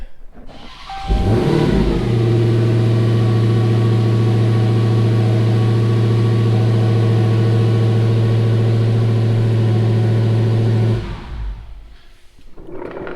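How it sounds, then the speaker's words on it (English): Dodge Demon 170 engine fired up briefly in a garage: a sharp start catches into a loud, steady idle with a deep, even rumble, then cuts off after about nine seconds. "I always like to fire the car up just briefly"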